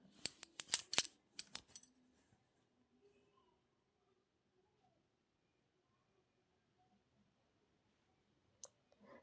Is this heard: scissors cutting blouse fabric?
yes